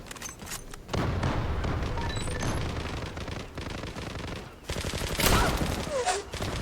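Kar 98 rifle shots ring out in the Zula shooter, loud and close, mixed with other gunfire in a busy exchange, with a few quieter gaps before another burst of shooting.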